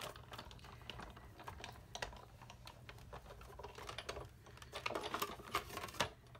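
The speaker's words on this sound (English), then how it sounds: "make sure the edges are tucked in and your hinge is going through the machine first" An embossing folder cranked hinge-first through a manual die-cutting machine makes a steady run of close, rapid clicking and grinding ticks that grows slightly louder toward the end, with no talking.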